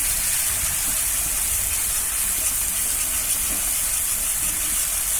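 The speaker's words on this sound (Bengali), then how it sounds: "বাটা লঙ্কা দিয়ে একটু ভালো করে নাড়াচাড়া করে নেব" Dried red chilli paste frying and being stirred in a pan, giving a steady, loud, broadband hiss like steam that runs unbroken throughout with faint low scraping underneath.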